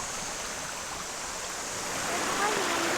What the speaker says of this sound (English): Little brook, you can stream here.